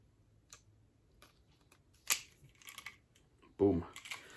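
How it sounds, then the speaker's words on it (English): A remote start fob being swapped onto a car key ring for a 2018-or-later Honda Accord, with sharp metallic key clicks and jingles, including a louder rattle near the end. "I'm going to take this one off and then I'm going to put the remote start one on it."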